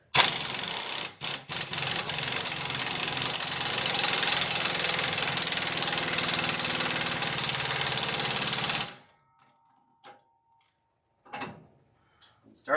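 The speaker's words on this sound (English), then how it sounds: "It started to go, but then it kind of quit." An AGT flail mower's small engine cranks and runs roughly for about nine seconds with a steady knocking clatter, then cuts out abruptly, leaving near silence broken by a few faint clunks.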